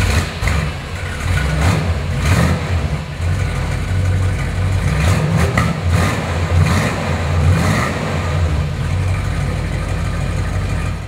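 A 1967 Plymouth GTX convertible's engine runs steadily and loud with a deep low rumble, rising in a few rev swells, close by with no talking.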